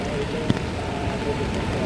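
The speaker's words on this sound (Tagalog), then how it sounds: "Grabe yung ulan." Heavy rain pours steadily onto surfaces during a flood alert at the Marikina River, a dense, unbroken hiss with one sharp drop-like tick, close and loud, with no talk over it.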